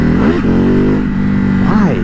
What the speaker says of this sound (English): I can't believe this is a bike with a single-sided swing arm and like 120 horsepower